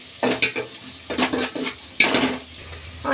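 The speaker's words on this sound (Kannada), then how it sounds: "ಶುಂಠಿ, ಬೆಳ್ಳುಳ್ಳಿ, ಕರಿಬೇವಿನ ಸೊಪ್ಪು ಮಾಡ್ಕೊಳ್ಳೋಣ. ಎಣ್ಣೆಯಲ್ಲಿ ಸ್ವಲ್ಪ ಫ್ರೈ ಆಗಲಿ." Ginger, garlic and curry leaves fry in oil in a pan, with scraping stir strokes and clinks of a utensil against the pan in short bursts over a faint sizzle.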